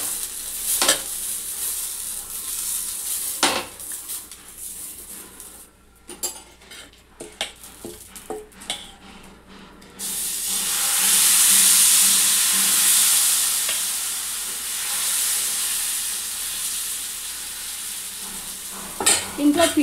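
A masala dosa made from rice flour sizzles on a hot pan, first with scraping and clinking of a spatula, then a steady loud frying hiss that continues for several seconds, with no talking.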